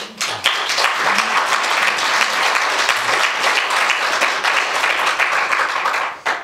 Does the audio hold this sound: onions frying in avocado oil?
no